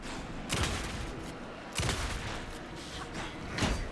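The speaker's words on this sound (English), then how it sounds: "Anderson, pin him down with gunfire for me to get the light on him." Three sharp bursts of gunfire roughly a second apart in the video game Alan Wake 2, over a steady noisy background, each shot crackling briefly before fading.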